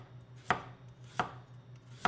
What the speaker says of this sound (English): I'm gonna cut up these radishes.